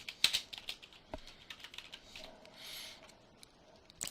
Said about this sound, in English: I'm going to type in a subject.